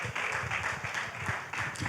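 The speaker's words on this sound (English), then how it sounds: "Another warm round of applause for our moderator" Steady, dense applause from a conference audience, sustained and fairly loud throughout with continuous overlapping claps and no talk.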